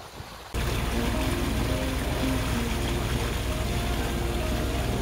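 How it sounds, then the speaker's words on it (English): Cruiser boat on the St. Clair River, a steady low engine drone with water rush, kicking in loudly after a half-second of quieter ambience and holding constant. "it looks like we have a cruiser boat in front of us"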